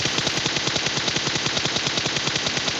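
Automatic gunfire in a battle royale video game, a rapid, loud, sustained burst of evenly spaced shots rattling on without pause, with no voices over it.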